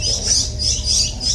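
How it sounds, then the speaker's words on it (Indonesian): A trocok bird calls in a quick series of short, high, repeated notes, near and fairly clear over a low background rumble. "Terus ini ada burung trocok."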